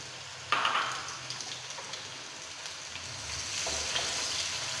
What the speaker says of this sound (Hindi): जब ऑयल थोड़ा सा गर्म होगा तो फिर हम इसमें प्याज डाल देंगे